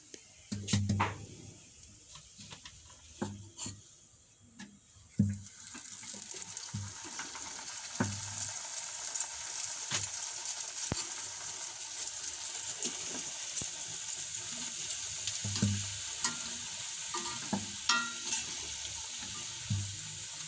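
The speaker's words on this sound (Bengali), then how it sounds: "দিদি জেলে দিচ্ছে আর আমি ভেজে নিচ্ছি" Food frying in oil in a home kitchen starts with a few light taps and clinks, then settles into a steady, close sizzle with occasional sharp crackles and pops.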